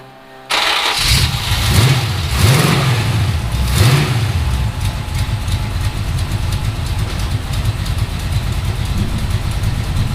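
A Gen 1 Small Block Chevy V8 with an LS-style alternator cranks over for a few seconds, catches and settles into a steady, loud, close-up idle that runs on alone without talk.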